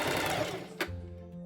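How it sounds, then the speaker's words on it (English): Sewing machine stitching wool jacket pieces and lining, a quick close mechanical run of needle strokes that slows and stops, faint and alone. "I sew front sides and back together for both the wool and the lining"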